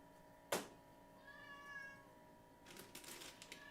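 A house cat gives a short, faint meow indoors in a quiet home-brewing setting. A sharp knock comes just before it, and soft rustling follows.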